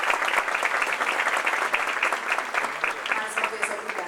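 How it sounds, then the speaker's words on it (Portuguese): A seated audience at the opening ceremony of a state congress of the public prosecutor's office breaks into applause, steady crisp clapping from many hands at moderate volume, unbroken across the moment. "Gostaria de pedir mais uma vez uma salva de palmas"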